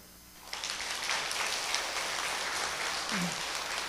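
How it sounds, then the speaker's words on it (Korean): An audience at a parenting seminar breaks into applause for young people, a dense hiss-like wash of clapping that starts abruptly after half a second and holds evenly to the end. "우리 청소년들에게 박수."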